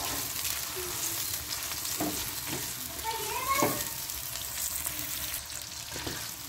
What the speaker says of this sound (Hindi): प्याज़ों को हम पहले फ्राई कर लेंगे जी